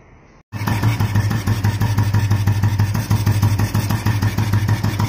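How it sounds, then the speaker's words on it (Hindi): A motorcycle fitted with a booster carburettor starts up after a short quiet moment and settles into a loud, steady, close-up idle with an even pulsing beat. "इस टाइम पर हमारी बाइक स्टार्ट है"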